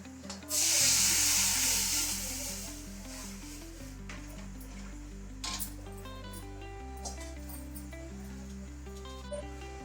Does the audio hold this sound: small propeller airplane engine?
no